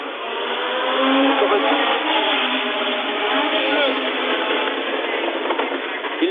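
Formula One race cars at the 1971 Monaco Grand Prix, engines revving and roaring steadily past in a continuous buzzing drone, heard through narrow-band broadcast sound with a commentator speaking over it.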